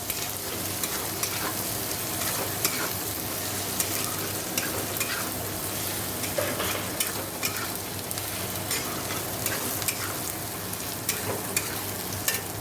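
Potatoes with cumin and Kashmiri chili fry in a pan, a steady close sizzle running throughout with frequent scraping clicks from stirring, no voices.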